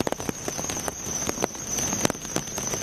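A heavy May rain shower pours down steadily, with a dense hiss of falling water broken by sharper drips and spatters close by.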